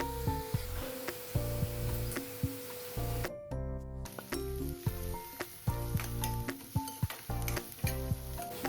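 Chopped onion, garlic, ginger and slit green chili fry in a pan for chilli jackfruit, giving a close, steady sizzle broken by rhythmic stirring scrapes and clinks.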